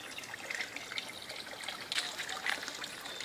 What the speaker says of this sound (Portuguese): Nunca para de sair água?